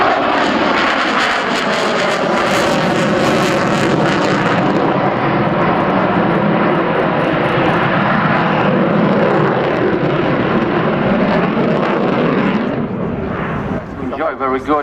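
A propeller plane flies a dynamic display at the RAF Cosford air show, its engine roaring loud and steady throughout before easing slightly near the end.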